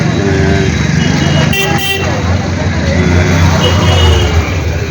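On a crowded street during the Kalpataru festival, a vehicle approaches with a short honk of its horn amid steady traffic rumble, close and loud, while people talk nearby.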